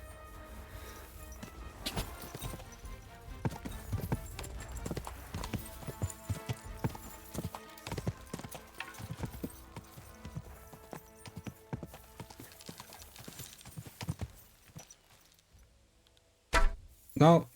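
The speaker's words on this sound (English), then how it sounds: "I gotta get back on my horse." Horse hooves clip-clop steadily while riding in the video game Kingdom Come Deliverance 2, with gear jangling alongside. The hoofbeats fade out near the end, and two short loud bursts follow.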